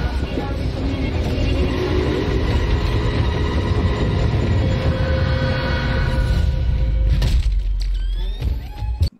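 A train from a Ms. Marvel TV episode rumbles loudly and steadily with dense low clatter, fading near the end into a brief squeal.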